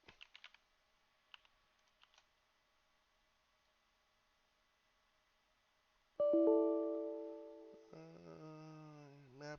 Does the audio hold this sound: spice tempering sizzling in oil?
no